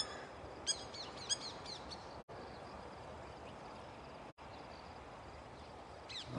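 A bird calls outdoors near a perch by the water, giving a few short chirps early on over steady, hissy background noise, with faint calls returning near the end.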